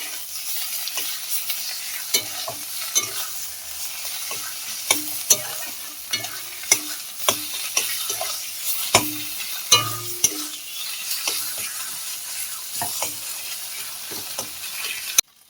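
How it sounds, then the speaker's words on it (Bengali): Ground lentil dumpling paste, with a little black cumin, fries in oil and is stirred in a pan, giving a steady soft sizzle broken by irregular scraping and clinking spatula strokes, close up with no talking. "একটু ভাজা ভাজা করে নেব"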